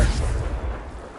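A Confringo fire spell cast in Hogwarts Legacy, a loud deep booming blast that rumbles and fades over about a second, close and heavy in the low end.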